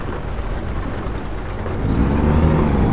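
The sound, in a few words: rain in the video game American Truck Simulator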